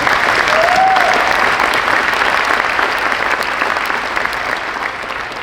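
An audience at a school senior awards night applauds the administrative and counseling team: a sustained, dense round of clapping from a crowd, loud and steady, easing slightly toward the end.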